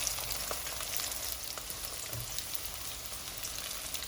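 Tofu meatballs deep-frying a second time in very hot oil, a dense continuous sizzle and crackle heard up close, steady throughout with no talking.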